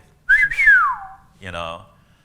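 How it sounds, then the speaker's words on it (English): A person whistles a short secret-code signal in two parts: a loud sliding, descending whistle, then after a brief pause a lower, rougher whistled tone, close and alone. "If I whistle in the public,"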